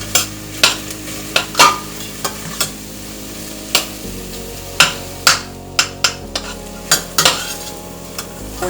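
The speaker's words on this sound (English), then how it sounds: "What you want to do is sweat the onions." Onions sweat in a pan over medium heat, a soft, steady sizzle running beneath repeated sharp clinks and taps of a utensil stirring against the pan, close and unaccompanied by talk.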